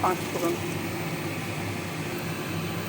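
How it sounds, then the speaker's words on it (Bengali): Panch phoron spices frying in mustard oil produce a steady, dense sizzle with faint crackles at the start, continuing evenly close by throughout. "পাঁচফোড়নটা ভাজা হচ্ছে।"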